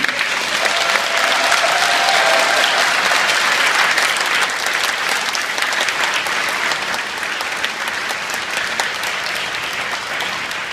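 Audience applause fills a church hall after a Christmas cantata to honour the choir conductor, a sustained, loud and dense clapping that tapers slightly toward the end.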